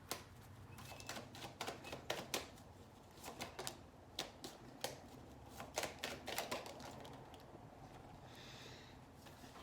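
Tarot cards are shuffled over and over, a steady patter of quick papery clicks and flutters, close and fairly quiet, with no talking.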